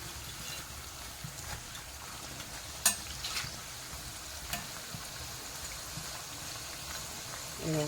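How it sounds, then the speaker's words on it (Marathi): Motichur modak frying in oil give off a faint, steady sizzle with a few small pops and clinks, quiet and constant throughout without speech. "एक बाजू चांगली फ्राय झालेलं आहे तेलात"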